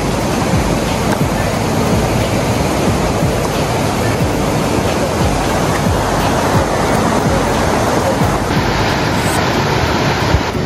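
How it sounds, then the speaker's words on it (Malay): Steady, loud rushing water fills the whole stretch without a break, a broad continuous wash like a fast river flowing close by, at a forest camp, Kem Rimba Tamu. "Bunyi sungai menangkai. Kau dengar?"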